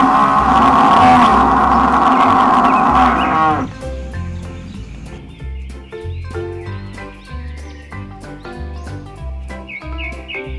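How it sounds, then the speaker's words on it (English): Cattle at a small zoo lowing, one long loud moo filling the first few seconds, then quieter scattered animal and background sounds. "Cow."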